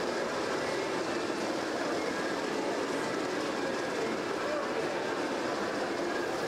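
A model railroad train at the Jingle Rails folk-art display in the Eiteljorg Museum runs through a Grand Canyon scene, a steady faint rolling rumble with light wheel clatter amid indoor ambience.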